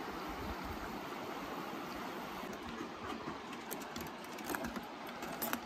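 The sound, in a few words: rushing mountain creek at bridge over Tumbling Creek, Banff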